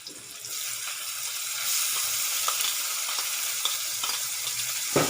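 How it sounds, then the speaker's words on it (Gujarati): Onions and tomatoes fry in a pan for street-style masala Maggi, a steady close sizzle with scattered crackles and occasional stirring scrapes throughout, no voices. "આપણે હવે પહેલાં ડુંગળીને એડ કરીશું। આપણે એમાં ટમેટાં નાખીશું।"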